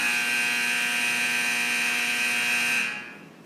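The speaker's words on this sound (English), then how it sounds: "setting off a whole bank of klaxon fire alarms" A bank of klaxon fire alarms blares in the Titan II missile museum's launch exhibit, giving a steady, loud electronic tone that holds for nearly three seconds before cutting off.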